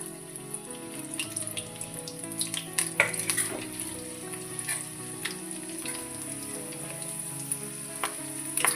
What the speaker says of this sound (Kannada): ಚಂದಾಗ ಎಣ್ಣೆಗ ಫ್ರೈ ಆಗ್ತದೆ